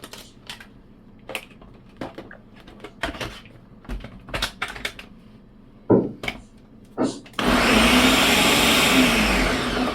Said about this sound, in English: Blend, blend, blend.